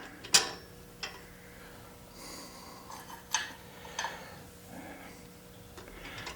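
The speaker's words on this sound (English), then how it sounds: "I'm going to put on the washer." A washer, lock washer and nut are fitted onto a bolt of a Dura Heat electric heater, giving a few faint metallic clicks and taps spaced out over quiet background.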